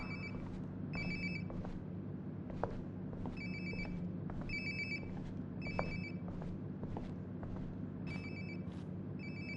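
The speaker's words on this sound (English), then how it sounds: "Sounds like my phone is definitely nearby." Mobile phone ringtone in the game Life is Strange: Before the Storm, a repeating electronic ring in short bursts about once a second, fairly faint over a low background hum, with occasional soft clicks and no speech.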